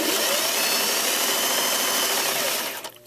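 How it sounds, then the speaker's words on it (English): A serger trims excess knit fabric with a steady, dense mechanical whir close by, running continuously and then cutting off abruptly at the end. "Serge, you can serge the excess off."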